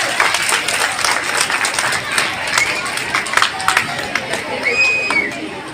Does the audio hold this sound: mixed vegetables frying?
no